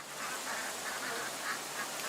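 Ducks in a duck pen, a steady run of rhythmic quacks under a dense wash of broadband noise, moderately loud and continuous without speech.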